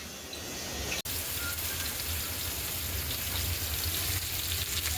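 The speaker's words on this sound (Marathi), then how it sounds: "आता मच्छी फ्राय करते." Bombay duck fish frying in a pan, a dense steady sizzle like heavy rain throughout, broken by one sharp click near the start.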